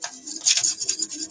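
Short, close scrubbing, with a bristly rasp repeated in quick back-and-forth strokes, a few rubs over about a second.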